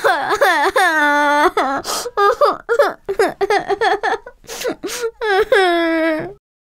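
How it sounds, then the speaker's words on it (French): A cartoon child whimpers and wails in a high, tearful voice, sobbing in long drawn-out cries broken by short gasps, loud and close, with no other sounds around it. "Ne pleure pas"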